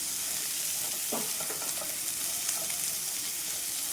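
A pan of frying food gives off a steady, close sizzle, with a few light scrapes and taps from a spatula stirring it.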